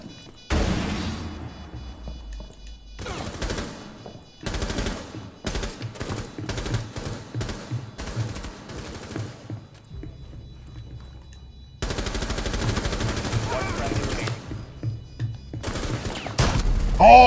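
Video game gunfire rattles in repeated automatic bursts and single shots, loud and close, with a dense sustained volley late in the stretch and heavier blasts at the end.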